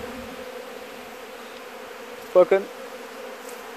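Agitated honeybees swarm and buzz around toppled, robbed hives with a steady, dense drone throughout, and a person speaks one brief word midway.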